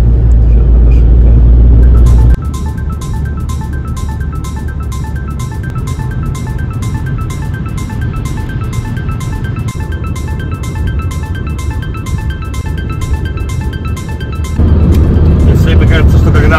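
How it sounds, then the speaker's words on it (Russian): A car passes on the road beside a moving vehicle or boat, its engine rumble and tire noise forming a steady low drone. Steady mechanical ticking runs through the middle stretch. "Еще одна машинка."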